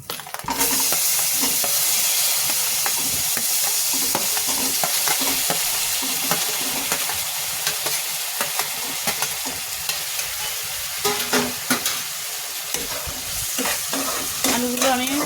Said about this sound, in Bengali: আলুগুলো এখন দিয়ে দিচ্ছি।